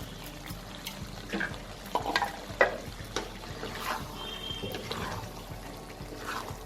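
Mixed vegetable curry is stirred in a pan, with soft, scattered wet scraping and splashing strokes, faint and irregular, over a quiet background hiss.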